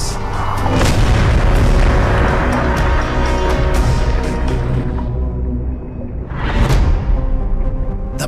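Mantis shrimp striking a crab underwater with its club-shaped forelimbs, heard as loud, dense booming impacts with a sharp swooshing burst near the end, no talk.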